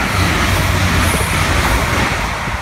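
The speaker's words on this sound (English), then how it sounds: "A train has finally showed up!" Irish Rail ICR train set speeding past Hazelhatch and Celbridge station platform, a loud, steady broadband roar of wheels and engine filling the whole stretch without letting up.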